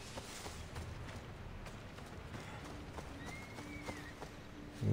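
Horse hooves clip-clop in Assassin's Creed Odyssey, a soft, even trotting rhythm kept low under ambient game sound, with no talking.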